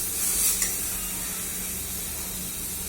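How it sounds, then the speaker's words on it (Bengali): Mutton pieces added to fried masala in mustard oil in a pan for mutton kosha, a steady loud hiss and sizzle with a brief stir clatter near the start. "আমি এর মধ্যে মটনটা দিয়ে দেবো"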